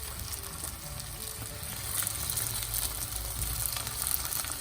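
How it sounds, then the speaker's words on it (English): Potatoes shallow frying in hot oil, a steady dense sizzle and crackle that swells slightly partway through, close and continuous with no talk. "Put your potatoes in the oil and shallow fry them till they are golden brown"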